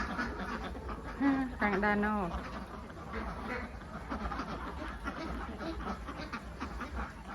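A Khaki Campbell or Yi Liang laying duck at a farm pen lets out a short run of loud, close quacks early on, then quieter flock sounds continue beneath a woman's brief speech.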